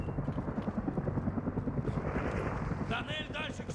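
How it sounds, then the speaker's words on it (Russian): A helicopter hovers nearby in the Call of Duty: Modern Warfare 2019 campaign, rotor chop pulsing steadily and loud while someone talks over it and brief game effects flare near the end. "А там вертолет на нас смотрит прям"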